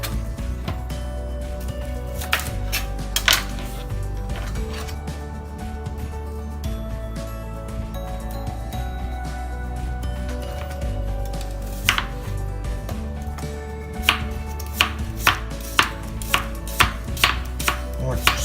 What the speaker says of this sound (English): So we're gonna give these onions a quick chop.